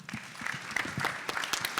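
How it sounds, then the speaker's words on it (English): Brief audience applause at a comedy show, a dense patter of claps filling the room, moderately loud and steady with no voice over it. "Yeah, give these people a round of applause."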